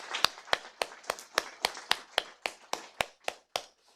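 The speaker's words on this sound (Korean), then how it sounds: "박수 한번 하세요. 박수." A small group in a Korean church service on Children's Sunday claps in a steady, even rhythm of about a dozen crisp claps, fairly quiet and alone with no talk.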